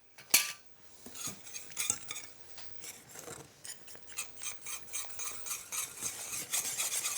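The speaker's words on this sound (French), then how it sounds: "on va terminer au fouet" Whisk scraping and clinking in a pan as caramel is mixed with cream, a busy, steady metallic rasping close by with a sharp clink near the start, no talking.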